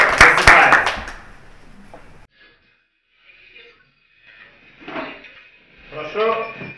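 Players at a Mafia game table clap in a short, dense burst that stops abruptly, followed by quieter rustling and murmuring voices.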